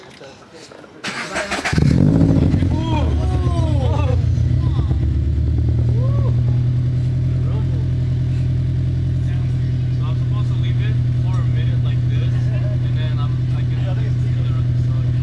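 A Scion FR-S engine with new Tomei unequal-length headers and an Invidia N1 exhaust cranks, fires up and revs sharply, then settles into a loud, deep rumbling idle that holds steady to the end.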